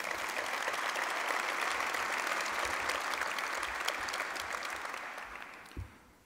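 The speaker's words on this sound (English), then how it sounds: "Please give them all a round of applause" Audience applauding steadily at an MTA Transit Challenge event honoring the Port Authority of New York and New Jersey's executive director, a dense wash of clapping that holds strong, then tapers off near the end.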